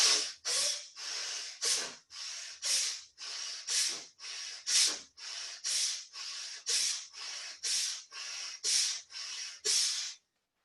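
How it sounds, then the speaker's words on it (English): Forceful bhastrika bellows breathing: about twenty rhythmic, evenly spaced bursts of loud breath rushing in and out close to the listener over ten seconds, alone with no talking. "And this is how the breathing Bhastrika is done."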